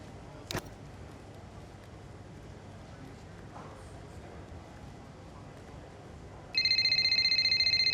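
A phone starts ringing in the F1 2025 video game, a sharp repeating electronic ring that cuts in late over a quiet ambient background after a brief click near the start.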